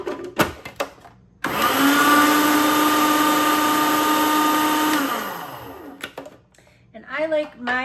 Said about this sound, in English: You wanna stop your food processor a couple of times and scrape down the sides so that